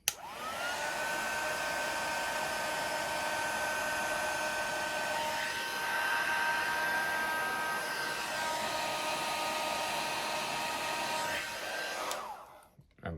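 A handheld heat tool melts embossing powder on a tri-fold card. It makes a steady, close blowing hum with a constant whine that runs alone for about twelve seconds before switching off.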